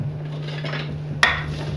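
A single light clatter as tossed vegetables drop onto a metal rimmed baking sheet, one brief clack over a steady low kitchen hum, close and fairly quiet.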